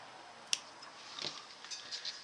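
Scissors cut into fabric seams on a small sewn case, giving quiet close snips and crisp clicks, with one sharp snip followed by a few softer cuts.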